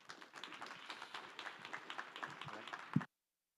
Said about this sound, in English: Big round of applause for Maxim